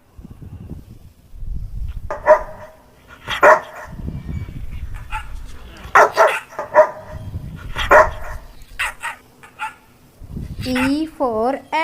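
A dog barks repeatedly in short bursts within a children's alphabet song, the barks alternating with sung or spoken lines and ending in a high, wavering whimpering yip.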